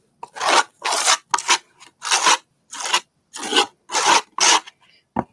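Someone scrapes across a board coated with textured primer in about nine rhythmic, close, gritty strokes, each a short rasping burst split by brief pauses.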